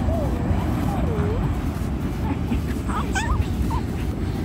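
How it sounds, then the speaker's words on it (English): A dog whimpers and yips in high, wavering whines, sounding close over steady outdoor background noise, with a few short yelps near the end. "It's dog language."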